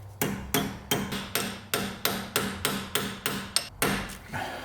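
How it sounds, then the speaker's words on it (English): A hammer strikes metal about a dozen times, tapping a roll pin in through an extension on a Subaru 2.5RS, in a steady, even rhythm, each blow sharp and close with a short ringing decay. "Not sure what the proper procedure for tapping in a roll pin is, but I feel like a hammer"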